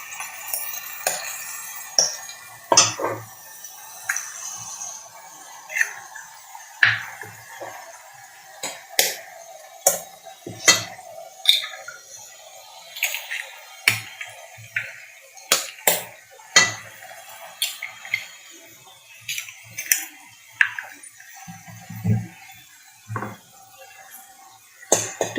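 Beaten egg being stirred in a pan for chicken fried rice, a long run of irregular metallic clinks and scrapes of utensil against pan, fairly close and steady, with no one speaking over it.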